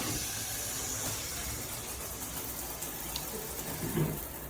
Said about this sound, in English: So when I turn the water on,